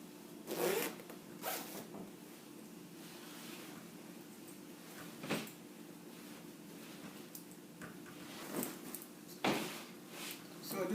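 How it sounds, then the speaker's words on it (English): A zipper on a handmade peplum blouse is pulled in several short, quick runs separated by quiet pauses, close and crisp. "So this is the zip."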